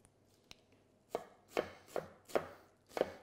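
A knife chops through a white onion on a cutting board, five firm, evenly spaced cuts ringing out close and clear after a faint click, with no talk.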